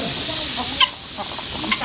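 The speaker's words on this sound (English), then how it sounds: "Look at all those chickens." Chickens clucking at a farm in Brazil, short irregular calls over a steady background hiss, moderately close, with faint voices nearby.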